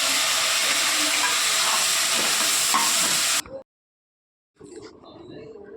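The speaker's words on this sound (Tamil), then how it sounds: "குக்கரில் எண்ணெய் ஊற்றி சீரகம், சோம்பு, வெங்காயம், கருவேப்பிலை, மல்லித்தலை போட்டு வதக்கிட்டுருக்காங்க" Onions, cumin, fennel and curry leaves sizzle and crackle steadily in hot oil in a pressure cooker, then cut to silence before a softer sizzle resumes; a voice can be heard faintly underneath.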